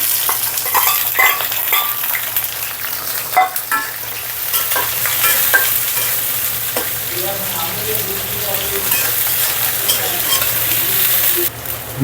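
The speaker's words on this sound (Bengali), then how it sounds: "তারপরে দিয়ে দেব কুচিয়ে রাখা পেঁয়াজ এবং রসুনগুলো" Chopped onion and garlic sizzle steadily in hot oil, with occasional stirring and scraping in the pan throughout.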